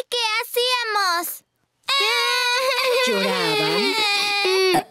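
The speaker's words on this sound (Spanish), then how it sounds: "Lloraban." Cartoon babies in Spanish-language Peppa Pig wail in voiced, acted crying: one loud sobbing phrase, a short pause, then a longer sustained cry close up.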